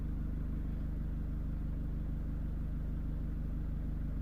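A Citroen C3 1.6 HDI diesel engine idles steadily and close by, a low, even rumble with a fine regular pulse and no revving or voices.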